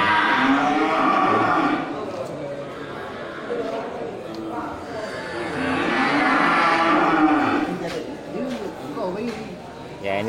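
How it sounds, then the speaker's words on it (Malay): Cattle at a livestock market moo in long, loud calls close by, with people talking throughout among the gathered cows and bulls. "ini terlihat satu ekor sapi jantan besar"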